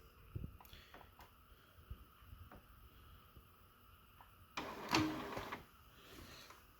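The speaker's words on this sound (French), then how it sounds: "Les cartouches d'encre vont se mettre en place." Inkjet printer moving its ink cartridges into place: scattered mechanical clicks and short whirs, then a louder motorized grinding burst near the end, fairly close and alone.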